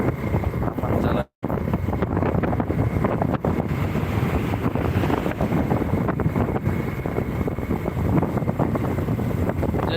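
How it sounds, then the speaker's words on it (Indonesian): Strong wind buffets a boat on Lake Toba, a loud, continuous roaring rush across the microphone with a low rumble of water and engine underneath, broken only by one brief dropout. "Anginnya kenceng ya kan."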